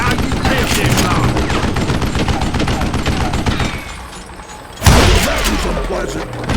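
Rapid gunfire in the Wild West shooter Call of Juarez Gunslinger, loud repeated shots in a dense volley, a brief lull, then a heavy blast and more firing.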